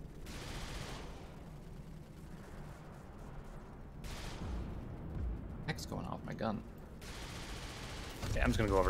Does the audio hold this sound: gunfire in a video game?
yes